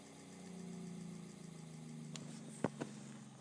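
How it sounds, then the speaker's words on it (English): An electric motor's armature spins freely after power is cut, giving a steady mid-pitched hum with a faint whine, then two sharp clicks near the end. "So the motor stopped, and the Armature is still freewheeling."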